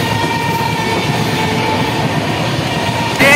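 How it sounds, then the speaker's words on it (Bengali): The Sealdah–Jammu Humsafar Express running at speed, a loud continuous rumble and rattle of carriages close by with faint rhythmic clatter, and a sharp brief burst near the end. "ট্রেন এখন বাড়ির দিকে ছুটে চলেছে"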